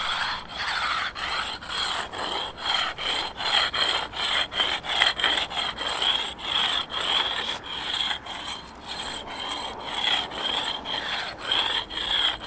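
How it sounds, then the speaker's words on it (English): A rub brick scrapes back and forth over a concrete skateboard ledge, smoothing out grinder lines in a steady series of close, gritty rasping strokes, with no voices. "So I went and bought one of these today, a rub brick, and I'm gonna push all the little lines off."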